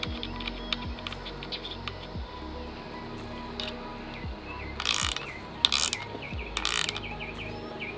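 A hand ratchet tightens hardware on an ISR MAF-mounted air filter for an S13, giving steady, rapid clicking strokes with short pauses between pulls, close by, plus a few brief louder metallic rattles.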